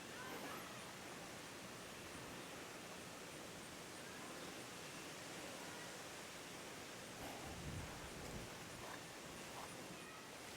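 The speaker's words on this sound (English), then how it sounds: "So a little bit windy today" Wind rushes continuously across the microphone outdoors in Erie, Pennsylvania, a broad steady hiss with occasional low buffeting gusts, faint and unbroken.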